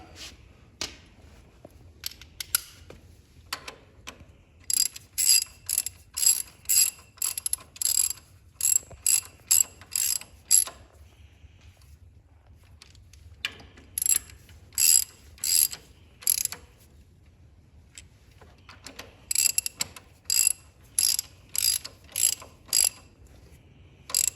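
A ratchet and socket turns bolts on a Kubota BX2380 tractor during a PTO repair, giving close, crisp clicking in repeated rapid bursts separated by short pauses.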